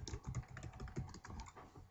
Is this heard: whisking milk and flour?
no